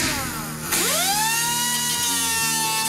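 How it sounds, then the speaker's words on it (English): An angle grinder cuts into metal around a vehicle body mount, spinning up with a rising whine and then holding a loud, continuous high-pitched grind with slight load dips, close by and without talking. "I'm just going to grind around and then grind here."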